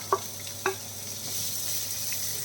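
Two large chopped onions for a mutton masala go into a hot pan, with two quick knocks followed by a soft, steady sizzle rising close by.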